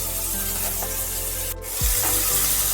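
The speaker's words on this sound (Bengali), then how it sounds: "এই তেলের মধ্যে আমি আমড়াগুলো প্রথমে ভেজে নিচ্ছি।" Hog plums frying in mustard oil in a pan, giving a steady, close hiss and crackle with a soft low thud of movement partway through.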